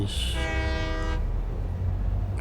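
An electric train at a station in the video game Satisfactory sounds a short, bright horn blast of about a second over a low, steady rumble of rolling stock. The rumble continues after the horn stops.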